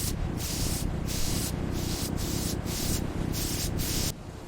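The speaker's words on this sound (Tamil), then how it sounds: "விமானத்தில் கிருமி நாசினி தெளிக்கப்படுகிறது" Disinfectant spray hisses inside an airplane cabin in a rhythmic series of about eight short, even bursts, each a broad airy spray, stopping near the end.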